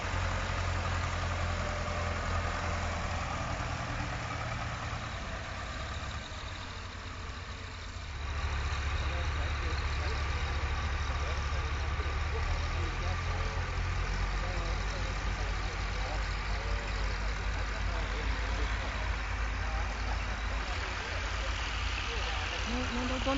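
Many tractor engines idle and rumble together in a field, a steady loud low drone that fills the whole stretch, with a brief dip midway and no clear talk.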